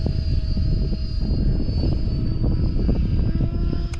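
An RC helicopter motor runs steadily at full power during autorotation practice, a loud continuous whine with a sustained high tone and engine drone throughout, no voices.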